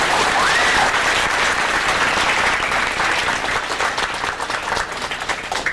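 A graduation crowd applauds its speakers with steady, loud, dense clapping that fills the whole stretch and eases off a little toward the end.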